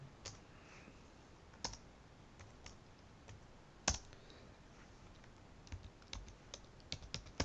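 Keys clatter on a computer keyboard in uneven bursts, with occasional louder keystrokes standing out against a faint hiss; no one speaks.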